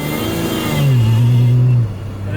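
A supercharged Porsche engine revs loudly while drifting on a frozen lake, a close, sustained roar whose pitch climbs and holds before dropping away near the end.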